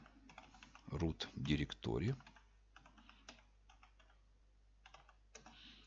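A computer keyboard is tapped to enter a command, bursts of fast keystrokes close to the mic, with a loud cluster in the middle and sparser clicks after.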